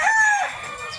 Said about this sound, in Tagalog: Naantay ka na ng mga manok mo